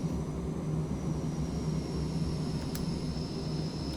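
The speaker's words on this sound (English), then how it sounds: "Let's just run the engines up now." Jet engines of a Carenado Premier 1A in a flight simulator game, running up as a steady, droning whoosh with a faint high whine held throughout, fairly quiet and unbroken.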